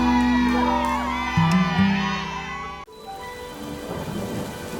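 Steady rain pours down while thunder rumbles heavily, with a sharp crack partway through, all over soft background music.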